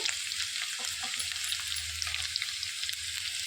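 Urad dal frying in oil in a pan for ridge gourd curry, a close, fairly quiet bright hiss of sizzling with faint scrapes and crackles running throughout.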